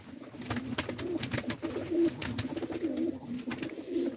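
Pigeons in a coop give repeated soft, low cooing calls, several birds overlapping in a steady throbbing murmur with some rustling around them.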